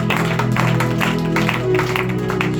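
A church congregation claps and cheers for the Lord, with steady crowd applause and voices mixed under a sustained musical drone.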